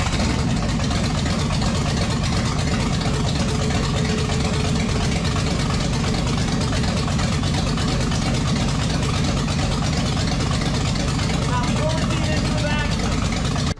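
A rough, loping Chrysler 383 V8 with a lumpy cam and open headers idles steadily and loudly throughout, its uneven rhythm constant with broadband noise and no pauses.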